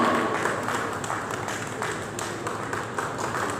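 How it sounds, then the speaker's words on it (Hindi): Loud applause from an audience of dignitaries at an Industrial Business Association and Yatharth Hospital event, a dense steady patter of many hands clapping for several seconds. "जोरदार तालियां"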